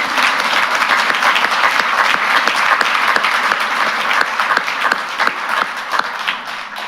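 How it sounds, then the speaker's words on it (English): Audience applause at a college athletic hall of honor induction ceremony, a dense, steady wash of many hands clapping that stays loud and even for the whole stretch, easing slightly toward the end. "Just a quick round of applause for Jacob Ocean and all of his great work."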